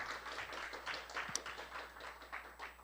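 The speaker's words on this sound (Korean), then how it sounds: "우리 축하의 박수 하겠습니다" A church congregation breaks into celebratory applause, a soft, continuous patter of many hands heard faintly at a distance with a low hum underneath.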